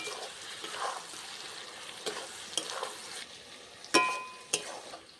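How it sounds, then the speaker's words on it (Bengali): Spice mix being stirred into an amla pickle in a pan, a soft continuous scraping and low sizzle with a few sharper clicks of the spoon against the pan near the end. "এই মশলাটা আমি দিয়ে দিচ্ছি। দিয়ে ভালো করে আবারও মিশিয়ে নেব।"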